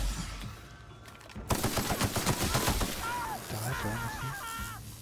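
Rapid bursts of weapon fire from a gun in the video game The Outer Worlds, a rattling volley of close shots in the middle followed by quieter game effects and chirping tones.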